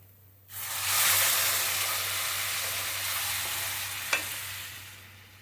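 After a quiet moment, a loud sizzle erupts as tomato puree is added to a hot pan for lasagna, then keeps hissing steadily, with one brief clink near the end.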